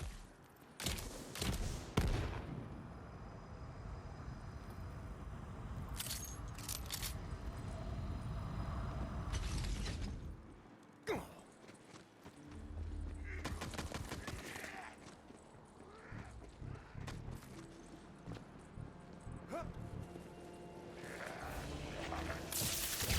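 Gunfire in the video game Tiny Tina's Wonderlands, aimed at raw quartz holding up rocks, comes as scattered sharp shots and short bursts with rumbling impacts between them, loud against a quieter game backdrop.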